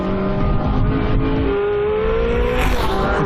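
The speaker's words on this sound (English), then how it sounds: "Now the race-bred V8 supplies the majority of the power." Race-bred V8 of a Porsche 918 Spyder hybrid supercar running in Sport Hybrid mode, a loud continuous engine drone rising in pitch as it revs, close and steady throughout without talk.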